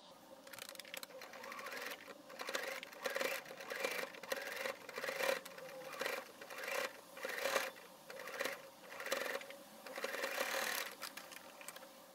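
A sewing machine stitches fabric for a wrap dress, running in repeated short bursts of steady mechanical whirring with brief pauses between them, fairly faint and close.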